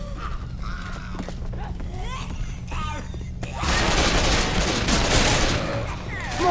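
Gunfire in the video game Left 4 Dead, heard as a sudden dense burst of rapid shots after a stretch of quieter in-game sounds and effects, loud and close.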